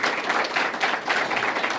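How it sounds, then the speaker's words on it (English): Audience at a Memorial Day essay awards event claps steadily for just under two seconds, a moderately loud, even wash of many hands with no talk over it. "let's give them a round of applause also"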